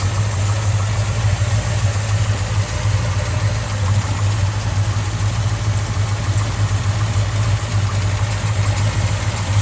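A 1970 Chevrolet Chevelle with factory manifolds idles steadily and close by, its deep, even rumble holding constant with no revving and no talk over it.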